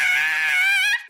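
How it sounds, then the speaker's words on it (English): A single person lets out a sustained, high, wavering scream lasting about a second, loud and close, cutting off abruptly at the end. "Sometimes you just gotta scream."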